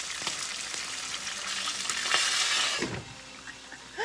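Steady, crackling sizzle of fish frying in hot oil, close and fairly loud, with a brief scrape or stir near the end.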